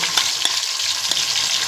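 Onions, ginger-garlic, curry leaves, whole spices and curd sautéing in a pan, a loud close sizzle broken by several quick stirring clacks of a spoon.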